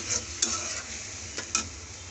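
Spices being stirred in a pan while chickpeas cook, with a steady soft sizzle and a few sharp scraping strokes of the spoon against the pan, close and moderately quiet with no talking.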